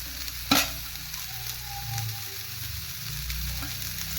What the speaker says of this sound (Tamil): இந்த அளவுக்கு வதங்கின அப்புறம் முந்திரி பருப்பு போட்டுருங்க.